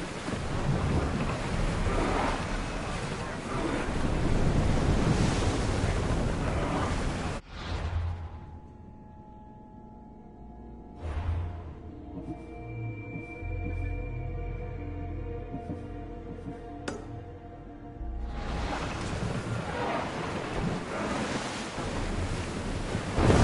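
In Assassin's Creed Odyssey, a ship sails on the open ocean with a steady roar of waves and wind. The sea noise drops away for a stretch of low tonal game sound, then surges back loud.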